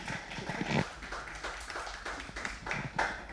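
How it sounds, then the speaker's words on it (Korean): Audience applause welcoming a speaker to a lecture on AI and the new liberal arts: a quiet, steady spread of clapping from a seated crowd, sustained evenly with small swells, no voices on top. "박수로 환영 부탁드립니다"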